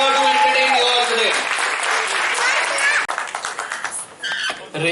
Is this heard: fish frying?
no